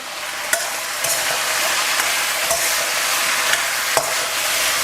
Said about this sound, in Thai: ผัดคลุกเขาให้เข้ากันนะครับ ให้ผักโดนความร้อนทั่ว ๆ นี่ครับ